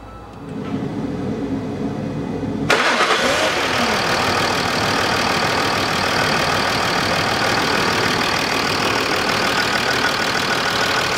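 A Land Rover Discovery 3 engine cranks and fires after its radiators were removed and cleaned, jumping from a quiet background into a steady, fairly loud idle with a broad mechanical rumble that continues evenly.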